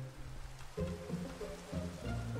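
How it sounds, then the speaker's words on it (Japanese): Steady rain falling in a Minecraft world, a continuous soft hiss of drops with a low tonal music-like layer entering partway through. "あ、雨降ってきたな"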